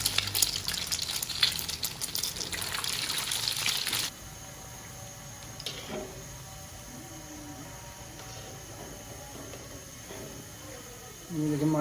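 Chicken shami kababs fry in a pan with a loud, steady oil sizzle for the first four seconds. The sizzle then drops to a quieter, continuous crackle with faint clinks, and it swells again briefly at the very end.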